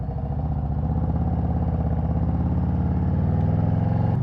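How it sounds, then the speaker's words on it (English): A 2021 Harley-Davidson Road Glide Special with a Tab exhaust rumbles loudly and steadily while riding, its deep V-twin throb pulsing evenly throughout with no talking. "Sounds really good, that Tab exhaust."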